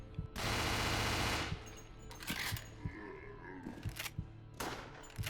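Gunfire in the PS3 shooter Resident Evil: The Darkside Chronicles, a sustained loud burst of shots followed by scattered single blasts, with groans and game noise in between.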